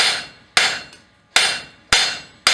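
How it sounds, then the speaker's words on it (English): A hammer strikes a steel skillet handle on an anvil in a blacksmith forge, four sharp, loud ringing blows spaced evenly about every 0.7 seconds, each decaying into a metallic ring. "we're going to use half on, half off blows to set down our original edge"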